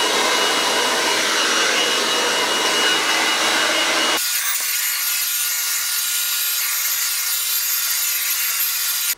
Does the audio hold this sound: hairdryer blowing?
yes